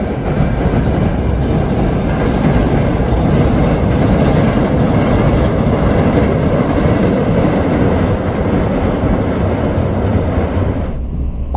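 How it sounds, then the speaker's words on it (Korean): A Seoul-bound Mugunghwa passenger train crosses the Waegwan railway bridge over the Nakdong River on the Gyeongbu Line. A loud, continuous rolling roar with clickety-clack of the wheels holds steady throughout and eases slightly at the very end. "열차는 경부선 외관철교를 통해 낙동강을 횡단합니다."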